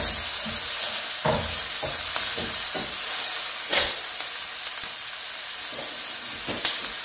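Garlic and ginger frying in a pan for a homemade coconut sauce, giving a steady close sizzle with occasional scrapes and clicks of a utensil stirring.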